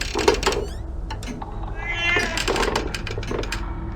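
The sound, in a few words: cat meowing in Mystery Case Files Ravenhearst video game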